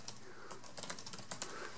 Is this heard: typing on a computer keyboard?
yes